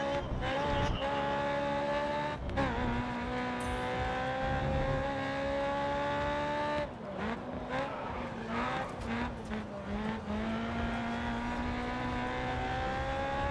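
Race car engine in the GRID Autosport video game, a steady loud harmonic drone that climbs in pitch through gear changes, with brief dips and shifts, continuous and close throughout.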